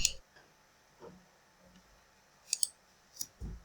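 Computer mouse clicks on an OK button, a few sharp, quiet clicks scattered across a near-silent background, including a quick pair, with no talking.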